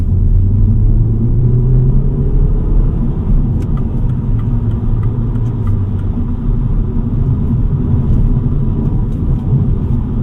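A 2025 MINI Cooper JCW drives and accelerates, its engine droning loudly and constantly under a heavy road rumble inside the cabin, with faint ticks and rattles over bumpy pavement and no talking.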